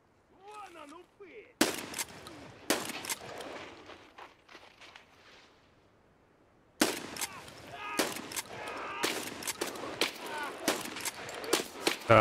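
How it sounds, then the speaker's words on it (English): Gunshots from a shooter video game set in a scav-filled map, fired in sharp bursts and single cracks with quieter gaps between volleys, some footsteps audible, and players talking over the action. "I was trying to shoot that scav from too far away."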